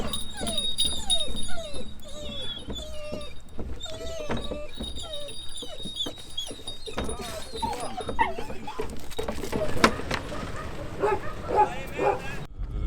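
A pack of around twenty hunting dogs whimpers, yips and barks before a wild boar hunt in Haute-Marne, France. The high whines and short barks come repeatedly, fairly close, with a low murmur of background voices and activity.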